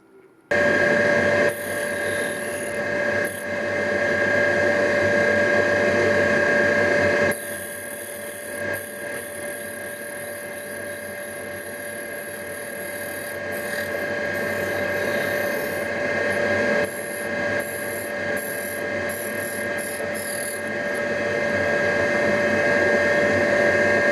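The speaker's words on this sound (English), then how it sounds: "I'm going to just flatten this off on the surface grinder" A surface grinder flattens a small cut metal part from a clutch release bearing guide spigot, giving a steady, loud whine with a sustained tonal hum that runs continuously throughout with slight shifts in intensity.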